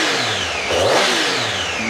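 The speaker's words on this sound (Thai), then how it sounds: "เดี๋ยวเรามาฟังเสียงเครื่องยนต์กันนะครับเดี๋ยวผมจะเบิ้ลท่อให้ฟังนะครับ" A 2016 Triumph Tiger 800 XCA three-cylinder motorcycle engine revs briefly, swelling to a throaty roar then easing back, loud and close.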